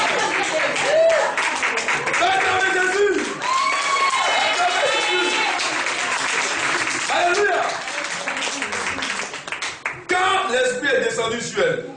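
A church congregation claps and cheers loudly and continuously in a reverberant hall, with dense rhythmic applause and scattered shouts of praise and voices mixed in, the clapping briefly dipping before surging again.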